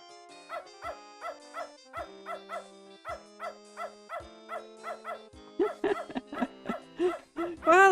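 A dog in the video game Beneath a Steel Sky barks in a rhythmic run of short woofs over game music, then breaks into faster, louder, more excited yelps toward the end.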